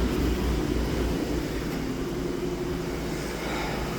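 A 2011 Volvo C70 in limp mode drones with a steady low engine hum under restricted throttle, a dense rumbling tone with broad road-like noise above it, close and fairly loud, without rising revs or speech.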